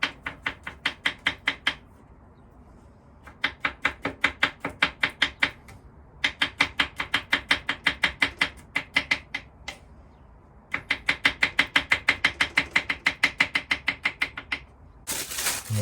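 A knife chops garlic on a board aboard a narrowboat in quick, even bursts of sharp taps, several runs of rapid strokes separated by short pauses, close and crisp with no talking.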